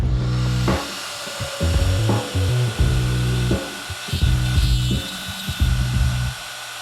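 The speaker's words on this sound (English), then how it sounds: "when we were planing this down, I stopped just under 3/4 of an inch" Wooden edge of a cosplay shield being planed down, with repeated rasping strokes in an uneven rhythm, loud and close with short gaps between passes, and no talk.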